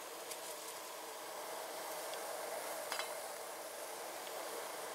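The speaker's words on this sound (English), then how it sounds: "You can see the flame now" A burner flame roaring steadily in a broad, even hiss, fairly quiet and close, with a few faint clicks and no voices.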